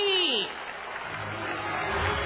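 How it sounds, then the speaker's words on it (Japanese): Stadium applause at ZOZO Marine baseball park as pitcher Roki Sasaki walks to the mound, steady clapping from a large crowd heard under a broadcast announcer's voice. "待ってたぞというそんな拍手に送られて初めてゾゾマリンのマウンドに上がります"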